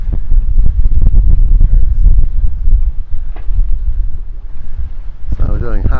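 Heavy wind buffets the microphone as a Leopard 45 catamaran sails under way, a loud, steady low rush that eases slightly midway, with a brief voice near the end.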